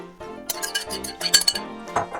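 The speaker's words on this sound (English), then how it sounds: "I'm going to pour the mixture in here." Honey papaya nectar mixture poured into a makeshift straining setup, heard as close, busy clinking of glass and utensils with splashy bursts across the pour.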